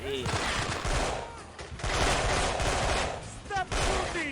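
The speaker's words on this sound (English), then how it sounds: "Stop shooting." Gunfire in the Delta Force: Black Hawk Down video game: dense, continuous bursts of automatic fire and shots fill the clip, loud and close, with brief dips and radio-like voices woven through.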